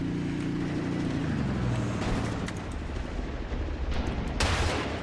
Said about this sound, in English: We've got 4 tanks shooting at us right now,